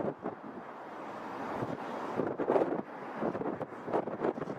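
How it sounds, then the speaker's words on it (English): Wind buffeting a microphone, producing a rough, rumbling roar that swells and gusts unevenly without any talking. "You know, it's windy up here."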